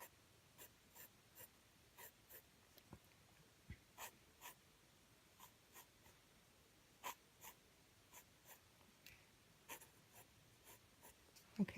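Pencil sketching of a pineapple on paper, quiet scratchy strokes in irregular short bursts, close and faint, with soft breathing in the background.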